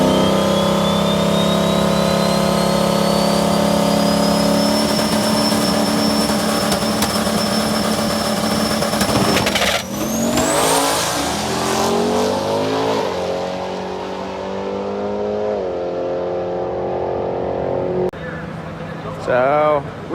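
A Buick drag car launching at Sick Week, its engine screaming loud and close at high revs as the wheels spin, then the pitch rising and falling through gear changes before the car fades off down the track.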